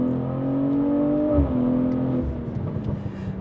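Tuned BMW B58 inline-six on an MHD Stage 2 map with a 200-cell downpipe and OPF delete, accelerating on the road from the cabin: a loud, steady engine drone rising in pitch, a quick gear-change dip midway, then continuing to pull.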